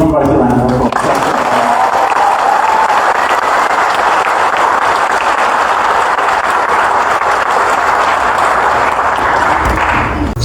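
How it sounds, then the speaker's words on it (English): A crowd gives a round of applause at a comedy show, a dense, loud wash of clapping that starts abruptly and continues steadily for about ten seconds before cutting off. "Give them both a round of applause."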